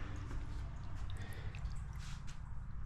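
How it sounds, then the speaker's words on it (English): A backyard pond with small water features trickles softly outdoors, faint dripping and gurgling water against a low ambient background. "you can hear my pond that's out back here"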